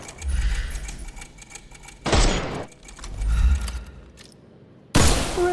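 Bursts of gunfire in the game Sherlock Holmes Chapter One, several separate sharp volleys and rattling shots punctuated by low rumbling thuds, loud and close with brief gaps, no talking.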